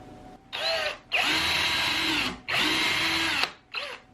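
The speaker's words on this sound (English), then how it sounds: "I'm going to be using a 3/32 drill bit" Power drill with a 3/32 bit pre-drilling holes for a wall-mounted mug rack, whining in three close bursts separated by short pauses, with a brief fourth spin at the end.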